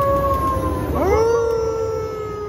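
Slot machine game sound of dogs howling, a sustained electronic howl that rises in pitch partway through and holds, loud and close with no talk.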